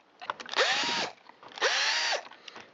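A power driver whirs in two short, rising bursts as it backs T27 Torx screws out of the pull starter on a Stihl MS193T chainsaw, with faint handling clicks between runs.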